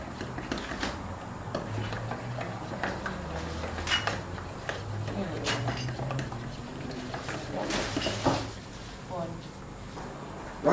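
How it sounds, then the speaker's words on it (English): Eggs beaten with a fork in a bowl for an omelette, a fast, light, irregular ticking and clinking of metal on the bowl, fairly quiet, with people talking over it. "So those eggs are getting nice and stirred up."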